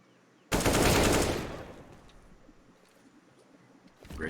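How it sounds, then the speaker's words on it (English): An AK-47 fires a rapid burst in Counter-Strike, the sharp rattle starting abruptly, loud and close, then decaying into a lingering tail before another shot begins near the end. "Synopsy gonna make him pay with that AK-47."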